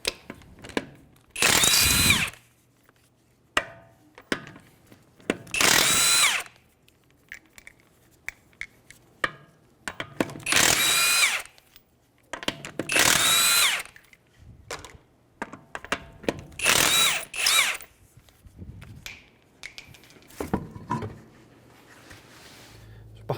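A power tool with a 21mm socket spins lug nuts off the wheel of a 2015 Hyundai Sonata, running in five loud whirring bursts separated by short pauses, with faint clinks and handling noises between them.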